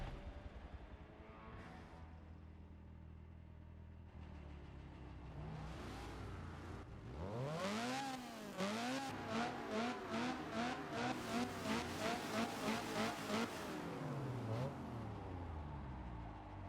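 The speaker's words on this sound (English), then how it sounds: "Don't know why I'm revving my engine." A Honda CRX engine in the Forza racing game revs repeatedly, rising and falling in rhythmic pulses with a rasping whine, steady and prominent on the Sonoma track with no talking.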